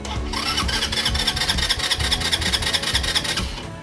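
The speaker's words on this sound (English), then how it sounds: "let me just actually see if it'll crank" A Lifan KP Mini 150 motorcycle engine cranks over on its starter, producing a loud, close, continuous raspy churning with rapid regular pulses that runs for a few seconds without catching.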